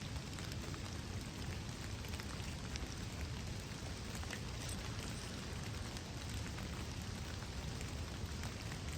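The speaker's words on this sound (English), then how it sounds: "it's raining like this, you're hardly ever going to hear the deer first" Steady rain falls during a woodland deer hunt, a continuous broadband hiss of drops on leaves and ground at constant level with no talking.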